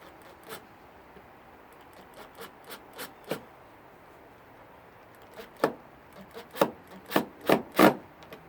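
A series of short, dry scraping bursts, sparse at first then louder and closer together near the end, like a screw grinding and slipping as it strips out its hole, on the rear trunk rubber button cover of a 2007 Toyota Camry.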